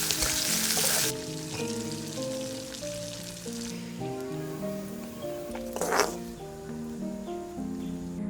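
Dried sprats frying in hot oil for a traditional coconut sambal, a continuous hissing sizzle with a sharp burst near the start and another flare midway, heard under steady background music.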